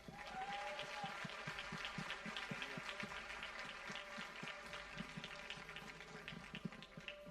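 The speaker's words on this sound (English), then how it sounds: "A special round of applause for them this evening." Faint, distant applause at an evening stage performance, saluting the voice actors seated beside the stage; the clapping blends with a soft rhythmic musical backing and stays low throughout.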